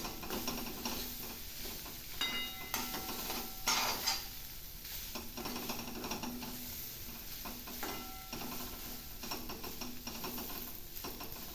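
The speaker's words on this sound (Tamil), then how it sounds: "கொஞ்ச நேரம் நல்லா சிம்மில் வச்சு நல்லா கிண்டி விடலாம்" Kara kozhukattai mixture stirred in a pan over a low flame, with steady soft scraping and faint sizzling and occasional clinks of a spoon against the pan, close up, no voices.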